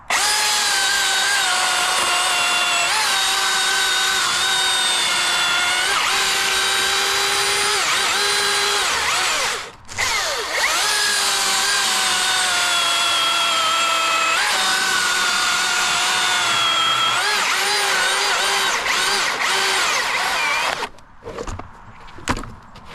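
A Milwaukee battery chainsaw running on two batteries cuts through wood during professional tree work, a loud steady high whine sustained for about twenty seconds with one brief dip near the middle, then dropping off to sputtering quiet at the end.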